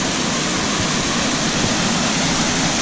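A waterfall comes down through the forest along the Bisse du Torrent-Neuf trail, a loud, steady broadband rush of falling water filling the scene with no voices.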